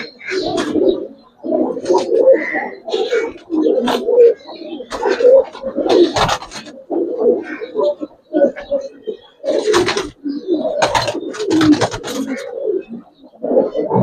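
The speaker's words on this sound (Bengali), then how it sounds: "ছাপচিলা পুরান জাতের একটা নট দর্শক। বুট ঠোঁটের গোল মাথার কবুতর।" Pigeons coo repeatedly in a loft with old-breed round-headed birds, their low burbling calls coming in steady overlapping bursts, close and loud, with occasional knocks and clatter between them.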